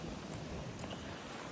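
Steady rain pours down at the Diplomat Hotel in Baguio City, a dense, continuous hiss of falling water with no pauses, fairly close and even throughout.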